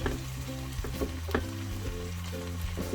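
Chicken frying in a pan inside a small motorhome kitchen gives a steady close sizzle with a few soft stirring knocks, continuous and moderately loud without any speech.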